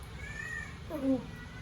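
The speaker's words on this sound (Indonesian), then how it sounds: "Bunyi kucing." A cat meows once, fairly close, with a short rising-falling cry over a low steady background hum in a quiet room at night.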